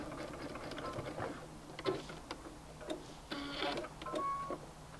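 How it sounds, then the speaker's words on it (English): A sewing machine runs zigzag stitches back and forth on a turtleneck top, a close mechanical whir with rapid ticking, stopping and restarting in short runs. "Zigzag stitch back and forth just a couple of times."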